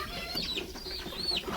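A baby chick held in a girl's hand gives a few thin, high cheeps close up, short rising chirps over a faint background with no talking.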